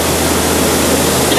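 Loud, steady rushing roar of a waterfall on the Jungle Cruise ride at Magic Kingdom, Walt Disney World, heard up close as an unbroken wash of falling water with no pauses.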